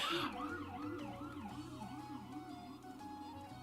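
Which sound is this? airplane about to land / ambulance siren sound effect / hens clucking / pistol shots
ambulance siren sound effect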